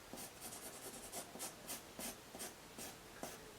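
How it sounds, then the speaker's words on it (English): A pencil sketches half circles at the bottom of a sheet of paper, making soft rhythmic scratching strokes close by, repeated about a dozen times at a steady pace with no talking. "get our pencil again, and we're just going to create these half circles here at the bottom of the paper"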